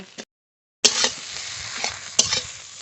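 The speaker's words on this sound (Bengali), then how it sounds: "আর একটু নেড়ে ভেজে নেব" Taro stolons stir-fry in a pan with a steady close sizzle, broken by a couple of sharp spatula scrapes and clanks after a brief silent gap.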